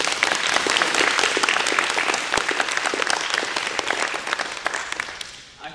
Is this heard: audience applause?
yes